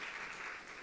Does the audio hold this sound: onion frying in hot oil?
no